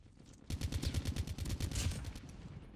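Rapid automatic fire from an ICR-1 rifle in Call of Duty Mobile rings out as one sustained burst of closely spaced shots, loud and close, lasting a couple of seconds with no talking.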